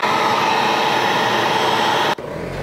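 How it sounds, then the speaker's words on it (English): A small 14-amp pancake air compressor, powered by an EcoFlow Delta Pro home backup battery, drones loudly and steadily, then cuts off abruptly near the end, leaving a quieter low hum behind. "A little pancake compressor here."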